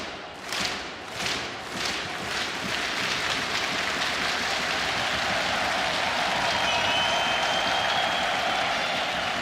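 A large arena crowd at a CS:GO major match between FaZe and Spirit applauds and cheers, opening with a few big rhythmic claps and swelling into a continuous loud roar of clapping.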